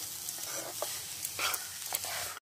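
Carrot halwa cooking in ghee, stirred with quick soft scrapes over a faint, steady sizzle, brief and close.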